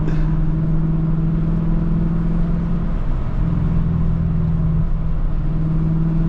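Lexus LC 500 engine droning steadily from inside the cabin as the driver lifts off the accelerator around 3,500 rpm, a loud, constant low rumble with a humming tone.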